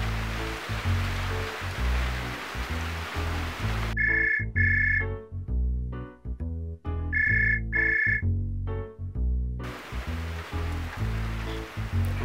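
A phone's outgoing call tone sounds as repeated paired electronic beeps, fairly loud, set between stretches of a low rhythmic music bed.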